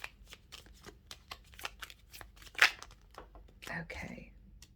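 Tarot cards are shuffled by hand in a quick series of crisp riffling flicks and papery slaps, close and clear, with one louder burst near the end amid quiet room sound.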